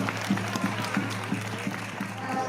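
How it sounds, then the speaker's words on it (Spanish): Audience applause at the Tinajero Folk 2021 award ceremony in Pasarón de la Vera, Cáceres, honouring a women's folk singing group: steady, moderately distant clapping with a soft rhythmic pulse and a low hum underneath. "Un fuerte aplauso."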